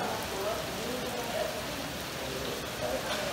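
Steady, dense hiss of rain falling on surfaces in Panama, constant and fairly loud throughout with no pauses.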